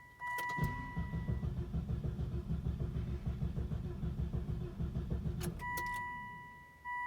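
A Volvo V70R, fresh from an alternator replacement, cranks with a steady rhythmic churn for several seconds before catching, with door-chime tones at either end.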